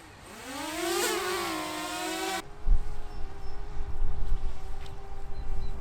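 Compressed-air powered model plane engine running at 100 psi: a whirring tone rises steeply in pitch as it spins up, then cuts to a lower steady drone with rough rumbling and clatter, close and loud.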